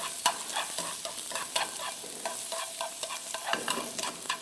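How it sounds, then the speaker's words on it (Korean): Sliced zucchini being stir-fried in a pan, a steady bright sizzle with repeated scraping and tossing strokes from a spatula, close and continuous with no talking. "이렇게 팬 전체를 이용해서 타지 않도록 잘 볶아줍니다."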